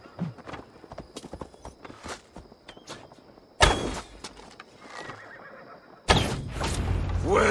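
Hooves clop on hard ground in a scattered rhythm, then horses whinny loudly twice in Assassin's Creed Valhalla, the neighs bursting out near and sharp.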